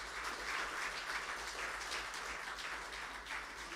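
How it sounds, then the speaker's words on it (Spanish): Steady, dense applause from a church congregation honoring Jesus, a continuous wash of many hands clapping at moderate distance with no voices on top, holding even for about four seconds. "Denle un aplauso al Señor Jesús."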